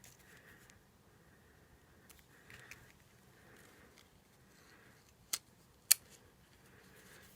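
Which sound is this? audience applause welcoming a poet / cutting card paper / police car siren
cutting card paper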